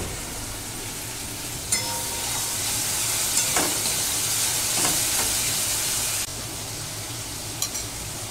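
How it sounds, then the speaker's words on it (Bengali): Spices for raw banana kofta sizzle steadily in a hot pan while being stirred, with a constant frying hiss and occasional scraping clicks of the spatula, close and loud with no talking. "এটাকে এইভাবে কষিয়ে নেবো, আর একটু কষিয়ে নেবো।"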